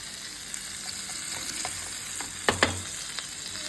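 Malvani-style fish fries in a pan with a continuous close sizzle. Two sharp knocks mark the fish being flipped, and lighter stirring ticks follow. No one speaks.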